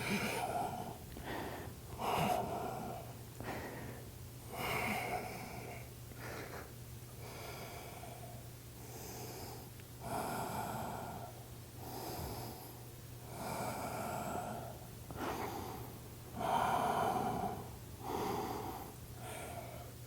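Slow, deliberate yoga breaths alternate between deep inhales and exhales, close and audible, repeating in a steady rhythm over a low constant hum.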